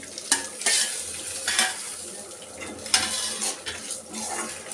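Flax seeds, sesame seeds and tamarind frying in a pan for a curry leaf powder, giving a steady close sizzle with intermittent scraping and stirring clatters against the pan, with no talk.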